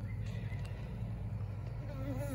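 Honey bees from a small queenless hive buzz around brood frames, a close, continuous droning hum with shifting pitch, fairly quiet, with no talk.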